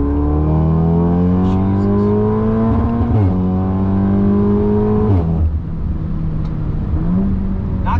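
A tuned 500 WHP Audi S3 pulls hard through third gear, its engine note climbing steadily in pitch with brief dips at the shifts, loud and close from inside the car, with no talking.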